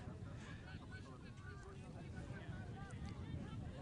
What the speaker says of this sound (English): they're kicking into this wind, which is gusting out of the north